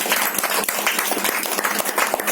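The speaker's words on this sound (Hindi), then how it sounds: "नहीं लगाया तो भी तालियां लगाओ" A crowd applauding at a Women's Day celebration event, steady, dense clapping from many hands filling the whole short stretch at an even, moderately loud level.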